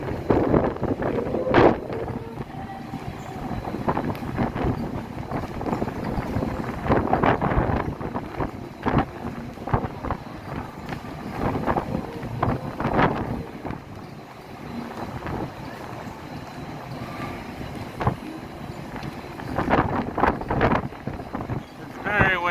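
Strong wind buffets the microphone on the open deck of the Royal Caribbean cruise ship Mariner of the Seas near the rock-climbing wall, a steady roar with gusty bursts running under people talking.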